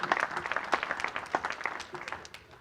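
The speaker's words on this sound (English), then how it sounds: "I think the teachers deserve a round of applause." Applause for the teachers at an Idaho Falls YMCA early learning gathering: a moderate burst of scattered clapping from a modest audience that thins out and fades toward the end.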